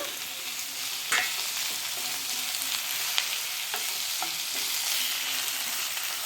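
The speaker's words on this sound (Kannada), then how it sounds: "ನಾನು ಎರಡು ಟೊಮೆಟೊನ ಕಟ್ ಮಾಡಿ ಎತ್ತಿಟ್ಕೊಂಡಿದ್ದೇನೆ ಅದನ್ನು ಹಾಕ್ಕೊಬಿಡೋಣ" Chopped tomatoes added to frying onions for a goat head meat curry masala, giving a steady bright sizzle and hiss with several sharp clinks of a spatula stirring, close and moderately quiet.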